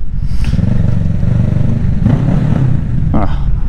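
Kawasaki Ninja 650 motorcycle engine echoing in a tunnel, a loud close rumble with short throttle blips and rising revs over about four seconds.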